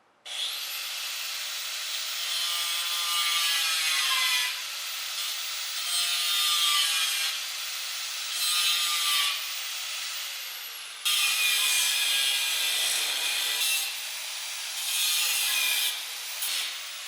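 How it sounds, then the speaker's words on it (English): A tool cuts through the roof of a Polaris RS1 in a series of rasping, grinding bursts, each a few seconds long with short pauses between, close and fairly loud with no voices. "turning into this roof, we're cutting it off on the four corners"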